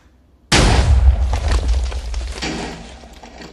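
A single loud TNT explosion from a Minecraft cannon bursts in abruptly, a heavy boom with crackling debris that rumbles on and slowly fades.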